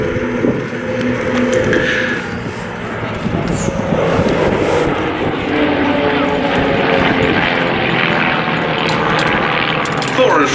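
Propeller aircraft fly overhead at the Duxford Battle of Britain air show, their engines a loud, steady droning roar that swells and shifts as the planes pass, with a commentator talking over them throughout.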